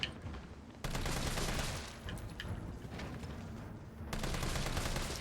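A burst of rapid gunfire from Resident Evil 3 Remake rings out loud and continuous, dense shots packed together with brief dips, alone without talk.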